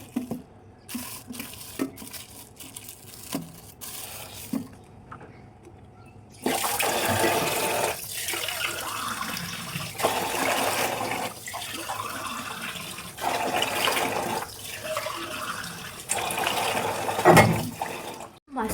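A few quiet clicks and taps, then water starts running strongly from a tap over soaking sea fish and keeps gushing steadily until the end.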